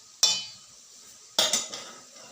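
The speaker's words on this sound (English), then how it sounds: "And then allow it to fry. And after a few minutes, you come back and stir it" Nigerian chin chin dough frying in hot oil is stirred in two short bursts, each a sudden close scrape and sizzle that fades back to a quiet background.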